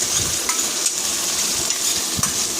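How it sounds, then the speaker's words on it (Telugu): Onion, green chilli, tomato and coriander frying in oil in a home pan, a steady close sizzle with a few soft stirring scrapes throughout, no talking. "ఇప్పుడు ఏంటంటే వేపుతున్నాను."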